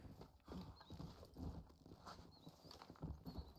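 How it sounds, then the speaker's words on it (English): Horse hooves in the video game Red Dead Redemption clop in a quick, uneven rhythm, close and fairly quiet, alongside a few short whinny-like calls and light game ambience. "¿Qué susto me ha dado el caballo, tú?"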